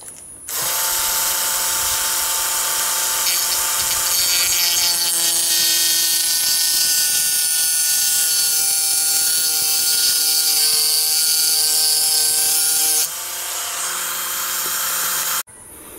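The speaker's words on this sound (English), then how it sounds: "Next, I'm gonna cut a slot right on the top of the screw." A rotary tool cuts a slot into the top of a homemade screw, a loud, steady high-pitched whine with grinding overtones running about twelve seconds, then briefly lowering before stopping.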